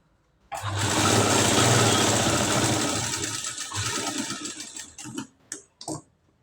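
A sewing machine stitches a katori blouse in one fast continuous whirring run of about four seconds, then slows and stops with a few short bursts and clicks.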